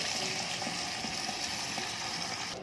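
Tomato paste going into green beans already frying in a hot pan, giving a steady, close hissing sizzle that stays constant with no talk.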